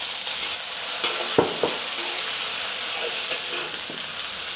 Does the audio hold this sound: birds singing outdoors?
no